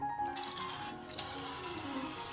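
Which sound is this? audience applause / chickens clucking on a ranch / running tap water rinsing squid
running tap water rinsing squid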